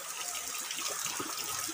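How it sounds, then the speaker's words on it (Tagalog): Water pours steadily through a pipe into a small swimming pool beside a waterfall, a continuous close gushing rush with no voices over it. "At dito naman yung sa tubo, dumadaan yung tubig."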